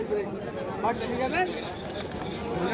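Soft pigeon coos rise over a busy crowd murmur at a market, with people chattering nearby in a lively outdoor setting.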